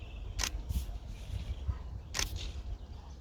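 Two crisp camera shutter clicks, well apart, fired during an outdoor photo walk at Sandstone Lake while shooting doves at shutter priority, 1/640 s, over a low steady background rumble.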